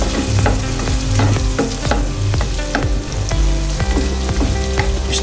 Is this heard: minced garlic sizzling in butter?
yes